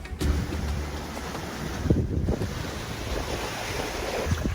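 Steady wash of waves and breeze aboard a sailboat cruising at under five knots under spinnaker, continuous rushing water and wind noise buffeting the microphone, with no voices.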